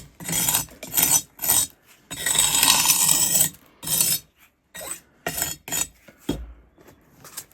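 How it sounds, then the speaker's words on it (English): A trowel scrapes excess concrete off the rim of a freshly cast concrete bonsai pot, a series of loud, close, gritty rasping strokes of varying length separated by brief pauses, with no speech. "when it's sticking up that much, the trowel takes it off really nice."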